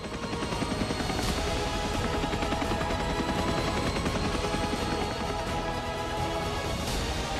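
Indian Navy military aircraft, fighters and helicopters, flying over during the MILAN 2026 exercise at Visakhapatnam, a loud continuous roar with a rapid chopping pulse throughout, no talking.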